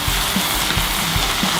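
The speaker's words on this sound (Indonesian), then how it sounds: "Selanjutnya kita masukkan buncisnya." Green beans dropped into a hot pan sizzle in a steady, close frying hiss, with a few soft knocks of stirring breaking through.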